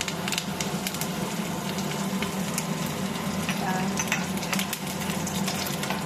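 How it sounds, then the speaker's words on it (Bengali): Curry leaves and cumin frying in hot oil in a pan, a continuous moderate sizzle with soft crackles and stirring sounds, steady from start to end without speech. "কারি পাতাটা ভাজা হয়ে গেছে"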